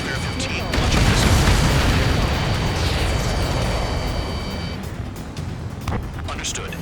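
In Ace Combat 7, a missile strike during a pipeline destruction mission sets off a sustained roaring explosion over loud jet engine noise, swelling and then slowly fading.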